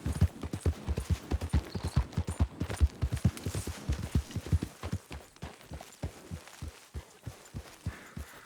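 Horse hooves clip-clop in Red Dead Redemption 2 in a steady, rapid rhythm, loud and close at first, then slowing and spacing out toward the end.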